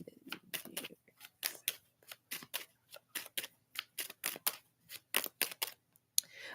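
Tarot cards are shuffled close up in rapid, crisp snapping bursts, a steady run of riffling clicks that continues throughout with no talk.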